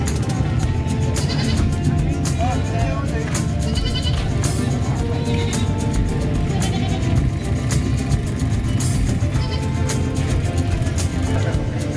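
Goats bleating at San Carlos livestock market amid a constant crowded din, with repeated calls rising over steady background noise throughout.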